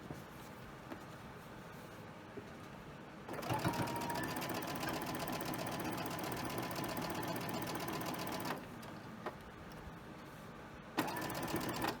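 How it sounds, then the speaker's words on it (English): A sewing machine stitches back over threads already sewn while piecing a quilt. After a few quiet seconds its steady, close, mechanical whir runs for about five seconds, stops, then starts again briefly near the end. "And I'm going right over the threads that I've already done, what I've sewn."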